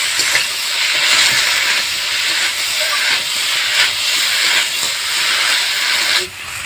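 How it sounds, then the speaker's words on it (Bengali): Potatoes being sautéed with cumin paste and ginger paste in a pan give a steady, loud hiss that runs continuously with slight swells and no talk over it. "এবারে মশলার সঙ্গে আলুটাকে খুব ভালো করে আমি কষিয়ে নেব"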